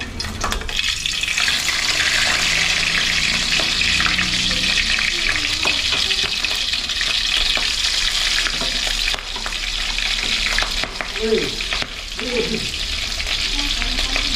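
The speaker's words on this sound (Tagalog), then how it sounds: "magpirito na tayo. Mainit na itong kawali natin." Oil frying steadily in a hot wok-style pan, a dense continuous sizzle that stays loud and close throughout with occasional stirring clatter and faint water noises.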